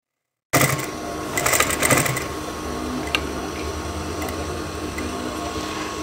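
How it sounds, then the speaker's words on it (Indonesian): A sewing machine runs steadily, stitching along the edge of a woman's work shirt sleeve cuff, a continuous close mechanical whir with a brief busier burst near the start. "lalu kita akan mulai untuk menjahit bagian pinggiran ini"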